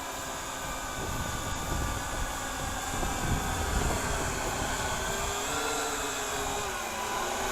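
A Syma X8HG quadcopter drone with an HD camera flying outdoors over long grass, a steady, even whirring drone that holds at constant loudness throughout with no talk.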